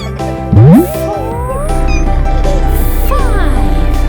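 Cartoonish kitten meows in a children's nursery song, several bright rising cries over a steady musical backing, close and loud.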